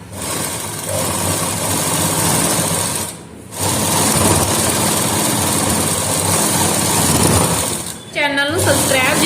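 Sewing machine running steadily while stitching a long straight hem on a salwar leg, a close continuous whirring drone that briefly stops once and again near the end.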